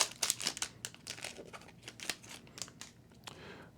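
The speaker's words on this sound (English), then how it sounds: "we gotta open this up and not mess up the cards inside" A foil pack of 1992 Maxx racing cards is torn and crinkled open, close-up bursts of sharp crackling and ripping in irregular quick clusters, no voices.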